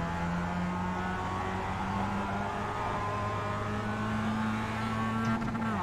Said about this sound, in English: And here is engine.